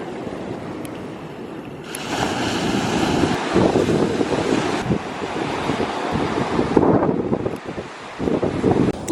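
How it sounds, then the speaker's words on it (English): Gusty wind roars across the microphone at a winter beach, with calm ocean waves washing in beneath it. The surges rise and fall in loud, broad swells with no voices. "It is so windy, but at least the ocean is pretty calm."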